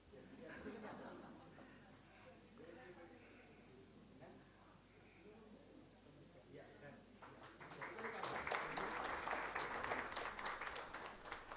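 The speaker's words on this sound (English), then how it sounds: "They are not taxing you for applauses, so you can clap even louder." Audience applause at a coaching event hosted by ICF Delhi NCR, where a voice speaks over quiet room sound before a burst of clapping breaks out and continues loudly for the last few seconds.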